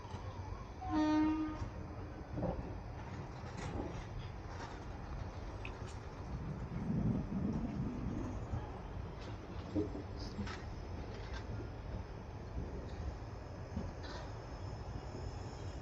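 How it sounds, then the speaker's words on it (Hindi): A train being shunted at platform 3 of Jalna railway station gives one short horn blast near the start, then a steady low rumble with scattered clanks and faint station noise continues throughout. "लगभग 20 मिनट पहले हमारी ट्रेन की शंटिंग की जा रही है जालना रेलवे स्टेशन के प्लेटफॉर्म नंबर 3 में"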